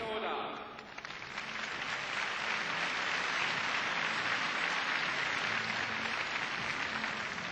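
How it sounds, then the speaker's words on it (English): Gymnastics arena crowd at the 1989 World Championships applauds Yang Bo, a broad, sustained wash of clapping that swells after the first second and holds steady, fairly distant, with commentary over it. "Just listen to the appreciation of the audience for Yang Bo."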